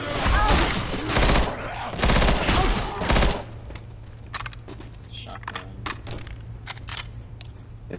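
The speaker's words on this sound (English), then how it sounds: "I forgot I had the grenade launcher." A grenade launcher fired in a video game, heard as a dense burst of loud, rapid gunfire and blasts for about three seconds, then scattered quieter clicks and pops over a steady low hum.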